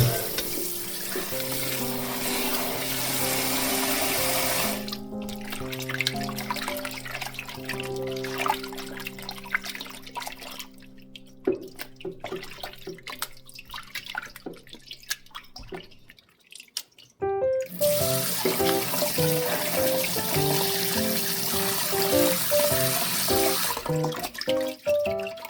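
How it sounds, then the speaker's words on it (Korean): Water runs from a tap in bursts as oysters are rinsed two or three times in a sieve in a home kitchen, with dripping, splashing and the clatter of the sieve and shellfish; no voices. "굴을 이렇게 두세 번 씻어주세요."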